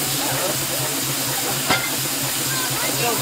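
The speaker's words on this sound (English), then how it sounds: "Basic steam engine, this is the boiler." A steam traction engine's boiler gives off a steady broadband hiss that fills the clip, with a brief sharper burst midway, close and continuous.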